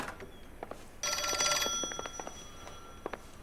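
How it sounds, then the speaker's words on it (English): A telephone bell rings in the LA Noire video game, a loud burst of rapid ringing followed by quieter rings and a few sharp clicks, with no talk. "Answer the phone."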